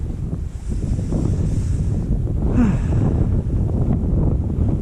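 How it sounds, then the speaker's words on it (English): Cold winter wind gusting steadily across a microphone at a riverside while fly fishing for rainbow trout, a loud, constant broadband roar with no letup and no voices. "in this chilling wind and everything"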